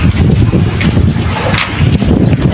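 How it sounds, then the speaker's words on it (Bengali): Strong wind buffets a rooftop during rain, a loud, roaring rumble of gusts battering the microphone over a hiss of falling rain, with no talk. "এত বাতাস, এত ঠান্ডা লাগতেছে"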